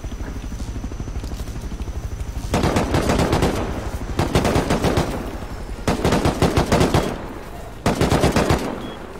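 Sustained automatic gunfire in the survival game Rust, loud and near, coming in long rapid bursts separated by brief pauses, with a low rumbling background throughout.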